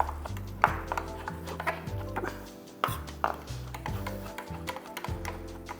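A knife chops tender coconut flesh for a Kolkata-style daab chingri prawn dish. Quick, light taps on a board repeat in an uneven rhythm, close and fairly faint, over low background music.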